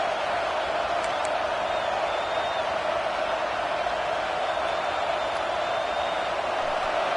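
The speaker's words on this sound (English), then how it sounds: "this crowd is making it miserable on this offense." Stadium crowd noise from an NCAA football video game: a dense, constant roar of cheering at an even, loud level throughout, with faint whistle-like tones drifting above it.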